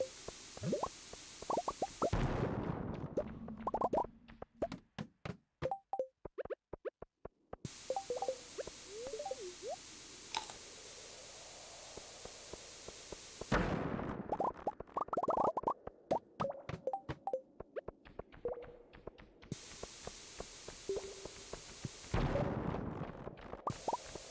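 Bombs going off in Stardew Valley's Skull Cavern, a run of rapid popping blasts and thuds repeating in clusters, with game effects and music in between.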